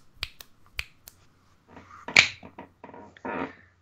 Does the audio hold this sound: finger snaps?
yes